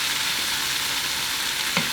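Food sautés in olive oil in a pan, a steady close hiss and sizzle with a faint stir or scrape near the end and no talking.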